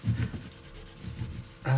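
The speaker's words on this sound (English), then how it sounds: "I just rub it in, rub it off." Finish is rubbed by hand into ebony wood on a Chapman ML-2 guitar, heard as soft, close, irregular scrubbing strokes, with a brief louder handling noise at the end.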